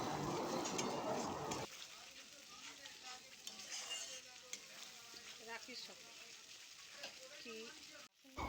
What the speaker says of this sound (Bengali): দিয়ে বেশ ভালো করে মশলার সাথে নাড়িয়ে চাড়িয়ে